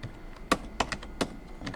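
Keys tapped on a computer keyboard during Photoshop text entry, a few distinct clicks in an uneven rhythm, close and fairly quiet with nobody talking.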